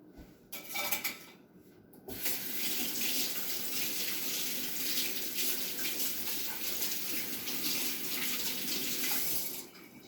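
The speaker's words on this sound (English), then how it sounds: "Right, wash my hands." Water runs steadily from a kitchen tap as hands are washed, a continuous rushing stream lasting about eight seconds after a brief start, close and fairly loud with no talking.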